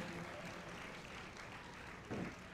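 An audience at a stage show applauds with a steady, faint wash of clapping that swells briefly near the end.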